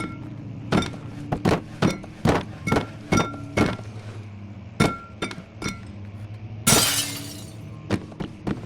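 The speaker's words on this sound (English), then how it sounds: "Can we bust this glass with a book?" A book strikes glass repeatedly in Amnesia: The Dark Descent: about a dozen sharp, loud knocks in an uneven rhythm, then a bright burst of shattering glass near the end, with no talking.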